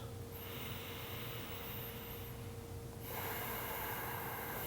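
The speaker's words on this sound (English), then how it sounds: "Maintain that pattern of breath, breathing in and out through the nose" Slow, deep ujjayi yoga breathing drawn in and pushed out through the nose with a constricted throat makes a soft, hissing, ocean-like rush. A long inhale turns into a steady exhale, close and alone, during a gentle morning yoga flow.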